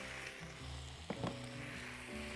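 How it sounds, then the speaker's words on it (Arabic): Chard sautés in a pan with leftover salmon and its marinade, a soft steady sizzle with a brief clatter of stirring near the middle, no voices. "هاخد تشويحه واحده في بواقي السلمون بطعمه وبحاجته بحاله بماله اهو"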